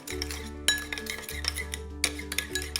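A spoon stirs tamarind paste, fish sauce and sugar in a bowl, giving quick repeated clinks and scrapes against the dish, close and fairly quiet.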